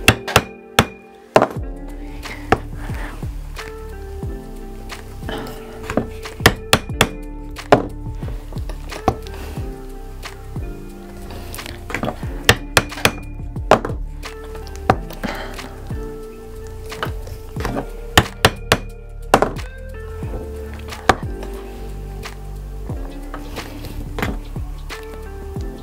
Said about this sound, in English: So I'm putting this round awl right on each of the little dots we made with the stitching roller.